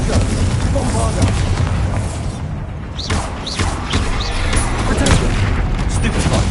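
Explosive spell blasts from Confringo and Bombarda in Hogwarts Legacy, a dense run of booming, crackling impacts over a constant loud combat din, with shouted voices mixed in.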